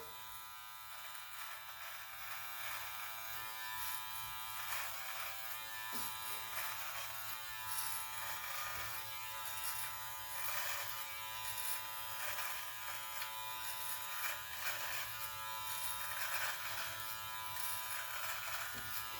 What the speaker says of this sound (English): you can definitely hear the motor. It's not bogging down.